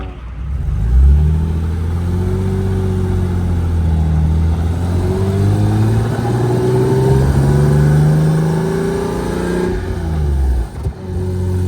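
A Lexus IS300 car engine, swapped to a manual gearbox, revs up and down through the gears while driving, loud and close, its pitch rising and falling steadily with no talking.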